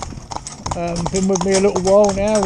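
Hooves of a driven horse in retraining clip-clop in a steady rhythm close by, continuing beneath someone speaking throughout.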